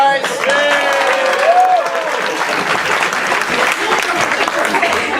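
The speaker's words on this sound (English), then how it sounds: "Alright, give a round of applause," An audience at a live snake show claps in a sustained burst of applause, fairly close and steady, with voices talking over it.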